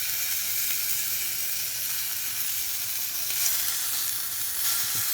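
A Home Bargains sirloin steak sizzles in a frying pan with a constant, close, crackling hiss that holds steady throughout without any voices.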